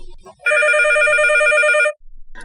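A telephone rings once with a bright, warbling electronic trill lasting about a second and a half, loud and close, preceded and followed by brief faint sounds.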